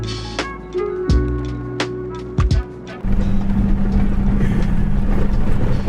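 Second-generation Toyota Sequoia engine running on a dusty abandoned mountain road, a loud low drone with a few sharp knocks and clunks, then a steadier, rougher roar of wind and road noise.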